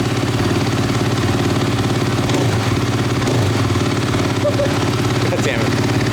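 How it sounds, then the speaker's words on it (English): A 2023 KTM 450 SMR motorcycle engine runs close by with a steady, throbbing mechanical rumble that stays even rather than climbing, while voices come through faintly at times. "Peter, rev it a bit."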